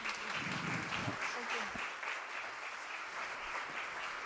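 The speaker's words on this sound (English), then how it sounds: "Round of applause." Audience applause at the opening ceremony of the EE-LV III electricity interconnection in Kilingi-Nõmme, a steady crowd clapping that continues across the whole stretch with faint murmuring beneath it.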